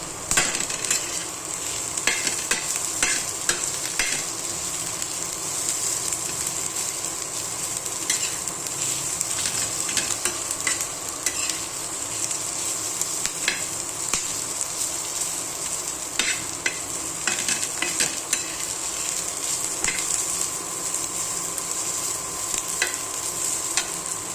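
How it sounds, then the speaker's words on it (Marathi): Onion fries in oil until brown, with a steady close sizzle broken up by repeated scraping stir strokes throughout and no talking. "ब्राऊन कलर होईपर्यंत भाजून द्यायचा आहे."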